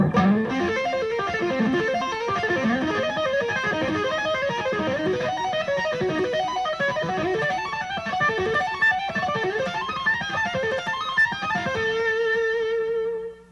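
Fast distorted electric guitar lick rising in minor thirds, dense and continuous, climbing in repeated steps before settling on a sustained held note at the end.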